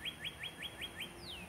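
Wild birds in a Florida backyard give a quick series of six evenly spaced sharp chirps, followed by one longer descending whistle, fairly faint and clear with no talking.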